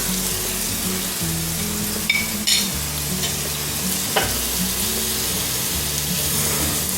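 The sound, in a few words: quartered mushrooms with flour sautéing in melted butter in frying pan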